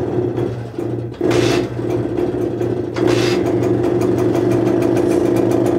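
A Herkules K50 moped engine fitted with a tuning exhaust runs with a buzzy, rattling two-stroke note, idling and then revving up in short bursts, loud and close throughout.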